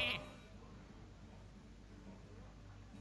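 A Polymorph spell in the card game Hearthstone turns a minion into a sheep, which gives one short, faint bleat at the very start before a quiet, steady hum of background music.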